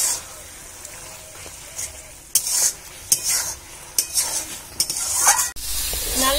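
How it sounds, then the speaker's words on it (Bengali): Water lily stalks fry in a pan while liquid cooks off, with a bright sizzle and several quick scraping, clinking stirs of a utensil against metal. "এবার এই জলটা শুকিয়ে নিলে আমার নাল ভাজাটা হয়ে যাবে।"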